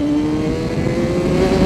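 A 2020 Honda CBR1000RR-R SP Fireblade sport motorcycle engine pulls hard and loud, its pitch climbing steadily as it accelerates, heard close up.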